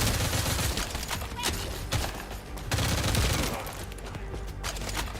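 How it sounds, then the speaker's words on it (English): Dense, continuous gunfire from the video game The First Descendant, with rapid overlapping shots and bursts packed closely together, loud and busy throughout with no talk. "people are fucking shooting at me"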